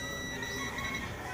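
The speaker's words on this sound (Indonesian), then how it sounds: "Napuputol yung buzzer." A continuity tester's buzzer sounds steadily while the relay of a Hanabishi refrigerator is checked. The tone is loud, close and unbroken across the whole moment, with no audible cut-out.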